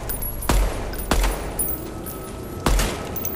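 Gunfire in a target practice range in the video game Deadrop comes as four sharp, loud single shots spaced unevenly across a few seconds, with brief decays and a quiet hum between them.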